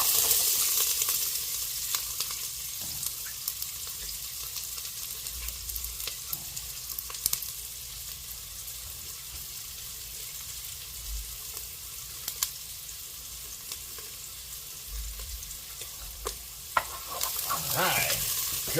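Onion frying in a hot pot for minestrone, a steady close sizzle with occasional stirring scrapes and soft knocks, continuous throughout and without speech.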